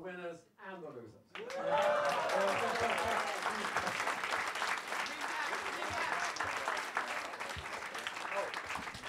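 A live audience applauds both winners and losers at a debate on the Ming and Qing dynasties, a full steady roar of many clapping hands rising after a brief spoken line and continuing throughout.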